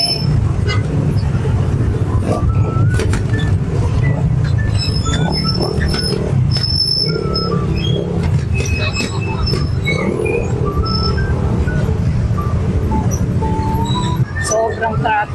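Heavy street traffic passes close by with a constant mix of car and bus engine rumble and scattered clinks and squeaks, while a person talks over it nearly the whole time.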